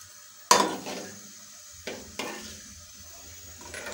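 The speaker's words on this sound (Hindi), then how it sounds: "अब इसमें हम ये कुछ पांच मसाले हैं, पांच फोड़न जिसे कहते हैं, ये हम इसमें ऐड कर देंगे।" Panch phoron, five whole spices, dropped into hot oil for prawn do pyaza: a sudden loud sizzle burst near the start, then softer crackling with a couple of clinking stirs of a utensil in the pan.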